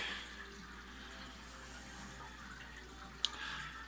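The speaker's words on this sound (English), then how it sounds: "Water is now siphoning into the sink from the tank." Water siphons from a 150-gallon reef aquarium through a hose into a sink, a steady quiet hissing rush with a faint trickle throughout and one brief louder splash or clink near the end.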